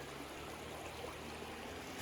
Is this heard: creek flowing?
yes